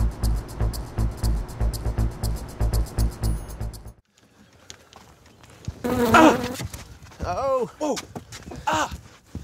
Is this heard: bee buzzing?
yes